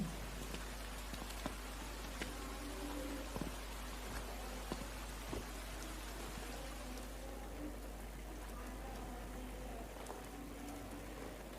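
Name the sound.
rain falling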